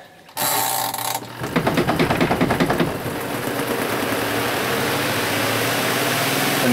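A portable washing machine switches on and runs with a mechanical, rattling whir, a rapid rhythmic clatter at first that settles into a steady loud hum close by.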